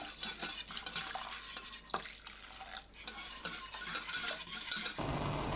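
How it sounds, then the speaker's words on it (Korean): Flour and water being stirred together in a pot with a spoon, a continuous close scraping and swishing with light clinks against the metal, steady throughout and no voices. "냄비에 밀가루 듬뿍 1큰술, 물 400ml 넣고 섞어주세요."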